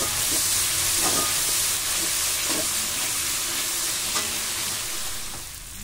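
Spice masala for a Bengali prawn malai curry fries in a pan with a steady, close sizzle, with a few scraping stirs breaking through the hiss before it fades at the end.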